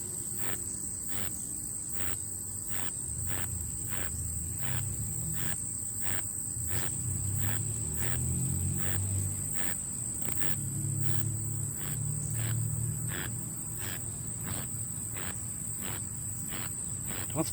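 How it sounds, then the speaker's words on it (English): A bee buzzes around garden plants in a small herb and potato garden, a low wavering hum that swells and fades, set against steady, rhythmic insect chirping outdoors. "Bee."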